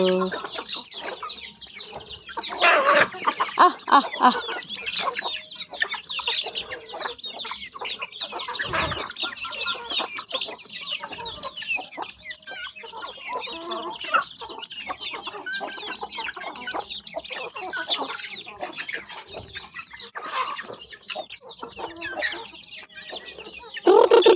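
Mother hens with small chicks clucking continuously nearby at night, many overlapping calls forming a busy, steady flock chatter.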